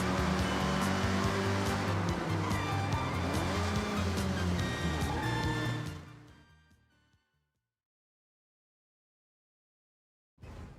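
A car driving in the racing game Forza Horizon 6, engine roaring loud and steady for several seconds before fading away to silence, then a brief return of sound at the very end.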